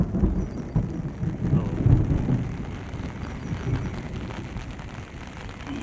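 The season's first heavy monsoon downpour, a dense steady hiss of rain with deep low thunder rumbling in the opening seconds, then easing into continuous rainfall.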